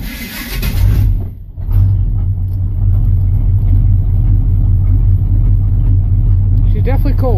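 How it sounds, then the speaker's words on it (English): A 1982 Chevy Custom Deluxe engine turns over on a cold start, then settles into a steady, low rumbling idle that runs loud and close throughout, with a brief dip early on and voices talking over it. "She's definitely cold. She's idling on her own."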